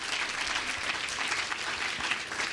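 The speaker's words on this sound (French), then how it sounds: "Je crois qu'on peut l'applaudir chaleureusement." An audience in a lecture hall applauds warmly after a neuroscience talk on imagination, a continuous, even patter of many hands clapping at moderate volume throughout.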